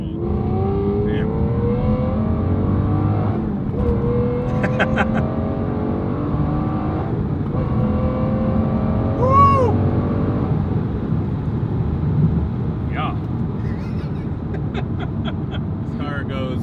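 A rare Aston Martin accelerates hard on a street, its engine revving loudly and steadily from inside the cabin, with rising and falling pitch as it pulls through gears while occupants talk and cheer over it.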